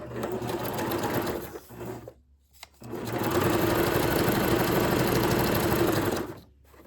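Sewing machine stitching a zigzag on a Christmas belly band, running in two loud, steady whirring bursts with rapid mechanical clatter, separated by a brief pause and ending as the motor stops.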